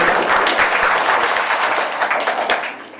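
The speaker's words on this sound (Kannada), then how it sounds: "ಅವರಿಗೆ ಒಂದು ಜೋರು ಚಪ್ಪಾಳೆಯೊಂದಿಗೆ ಮತ್ತೊಮ್ಮೆ ಸ್ವಾಗತ" A crowd at a government high school function in Mulbagal claps loudly to welcome a guest, sustained close applause that tapers off near the end.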